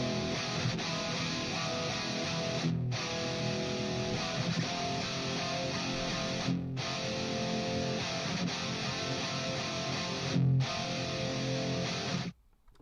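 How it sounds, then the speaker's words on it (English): A high-gain distorted electric guitar riff runs through a 5150 amp model on a Quad Cortex, chugging densely and loud almost without pause, with three brief stops, before cutting off near the end. "the high gain stuff, which I did with a 5150 from my Quad Cortex"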